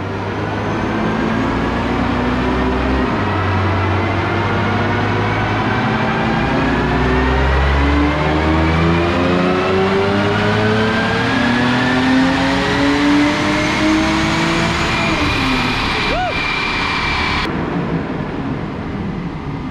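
A turbocharged Honda S2000 engine revs hard on a dyno through a long, sustained full-throttle pull. The loud engine note climbs steadily in pitch for most of the run, then cuts off sharply near the end.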